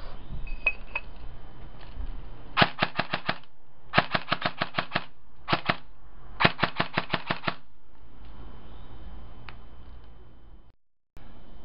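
A FireFox foam blaster, run on an 11.1 volt 1600 mAh battery during a trigger response test, fires in rapid bursts of sharp mechanical clacks, grouped in clusters of two to eight shots over a constant motor whir, close up, with no talking.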